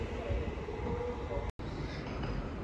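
A London Northwestern Railway passenger train runs at Stafford station, its steady broadband rumble and rail noise filling the space throughout with a brief dropout midway, and no talk over it.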